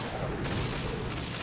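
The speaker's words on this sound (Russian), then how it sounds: "Контузящий выстрел." A concussive shot fires in the video game Front Mission 3, a dense burst of booming gunfire that fills the clip loudly, with two sharp breaks in the blasts.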